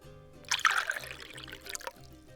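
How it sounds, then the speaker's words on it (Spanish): Water poured into a cooking pot over raw chicken with a large garlic clove and bay leaves, a close splashing trickle that swells and tapers over about a second and a half. "Ponemos suficiente agua para cubrir todo el pollo."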